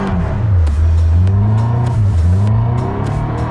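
A car drifting on ice in Quebec revs hard at full throttle, the engine note loud and close, rising and dipping in long sweeps with short lifts between pulls.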